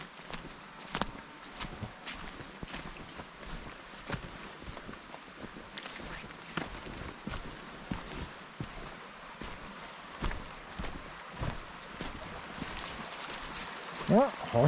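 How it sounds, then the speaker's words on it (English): Horses walk across a stream on the Lissan House estate in County Tyrone. Their hooves clop in an uneven, steady rhythm, fairly faint and a little distant, with rustling around them. "Yeah, horses can cross streams,"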